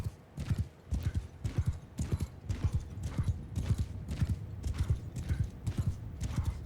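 Steady clip-clop of horse hooves in the video game Mount & Blade II: Bannerlord, in quick, rhythmic pairs, close and clear, keeping up a continuous trotting beat.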